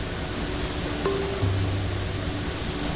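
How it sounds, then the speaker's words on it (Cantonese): A three-tiered waterfall in Guizhou pours down a cliff, making a steady, even broadband rush with a faint hum underneath. "清泉由高聳入雲嘅懸崖傾瀉落嚟，被相等距離嘅三塊岩石層阻擋，形成咗3級樓梯咁嘅瀑布。"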